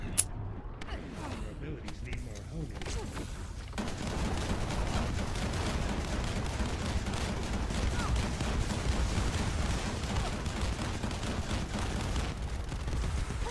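Enemy barrage gunfire in the video game The First Descendant rattles as a dense, continuous stream of rapid shots and impacts, loud and unbroken after a brief quieter opening.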